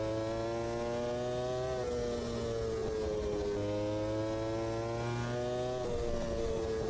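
A Formula 1 car engine in a racing video game drones at high pitch, dipping sharply as the throttle lifts off around every two seconds and then climbing again, steady and loud with no voices.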